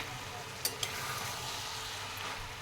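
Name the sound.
radish greens being stirred while cooking in a pan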